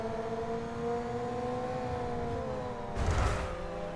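A Formula 1 car engine from the F1 22 racing game on the Azerbaijan track, holding a steady high whine with layered harmonics, then a brief whooshing burst near the end.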